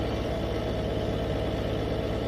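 A Renault 610 tractor engine idles steadily in the Farming Simulator 2013 video game, a constant low rumbling drone with a throbbing pulse, close and unchanging throughout with no talk.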